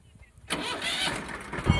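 A tractor engine starts up at a village fair and keeps running loudly, a sudden mechanical roar after a quiet opening, with people talking nearby.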